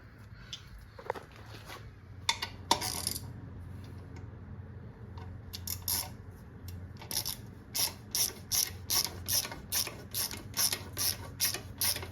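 A ratchet wrench clicks in quick bursts while undoing 10 mm and 19 mm bolts on the oil filter of a 1982-86 Yamaha XT125, close and crisp, growing into a steady rhythmic series of ratcheting strokes.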